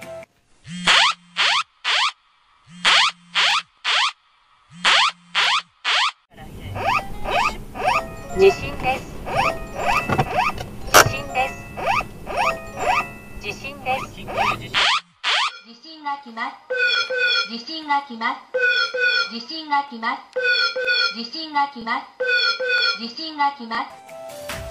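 A series of Japanese mobile phone earthquake warning tones: repeated rising chimes, then a harsh buzzing alarm, then another chiming pattern, loud and without pause.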